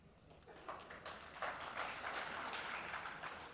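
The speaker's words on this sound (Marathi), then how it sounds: "टाळ्या वाजवण्यासारखं काय याच्यात?" Audience clapping at a political rally speech by MNS chief Raj Thackeray, a distant, fairly faint wash of claps that builds after the first second and holds steady to the end.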